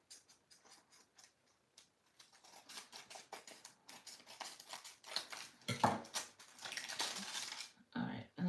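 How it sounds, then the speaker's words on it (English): A cutter slicing through the top of a junk journal: a series of close, crisp clicks and scraping strokes, sparse at first and then denser and louder, with a brief rustle of paper near the end. "And then I cut the top open."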